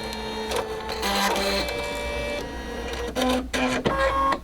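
An embroidery sewing machine's automatic needle threader whirring and clicking through a short mechanical cycle, close and fairly loud over a low steady hum, with no talking.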